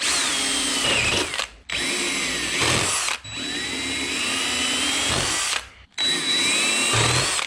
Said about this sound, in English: we're gonna have to do some inevitable drilling of the frame there